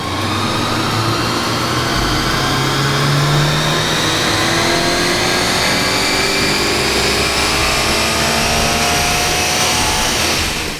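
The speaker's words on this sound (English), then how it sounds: "The next stop on our test was the Dyno at Croydon Racing Developments to see what the car makes." A naturally aspirated Toyota 86 (FT86) boxer four-cylinder revs on a chassis dyno at Croydon Racing Developments, a loud, sustained engine roar climbing steadily in pitch for about ten seconds with no talking.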